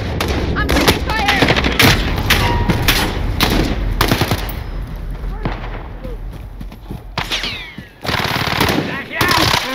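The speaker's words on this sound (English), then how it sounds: "I'm taking fire!" Rapid automatic gunfire and bursts of shots from the Call of Duty: Modern Warfare Warzone video game, loud and dense throughout, mixed with in-game voices and effects.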